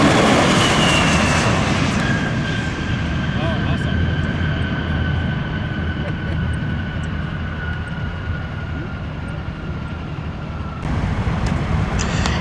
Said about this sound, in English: United Express 5213 inbound from Colorado Springs.